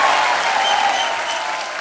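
A studio audience on a Hindi comedy talk show bursts into steady, dense applause as the dancer Helen walks on, a close, continuous wash of clapping that holds evenly and eases slightly at the end.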